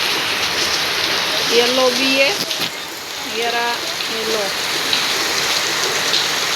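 Steady monsoon rain pours down in rural Gujarat, a dense continuous hiss that stays even throughout, with people talking briefly over it.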